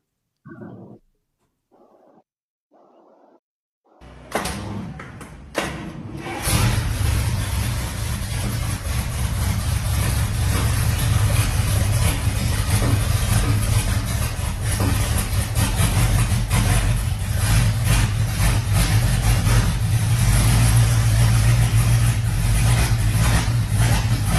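A classic hot rod car engine starts with a few sputters, then settles into a loud, steady idle with a rumbling low tone that holds throughout.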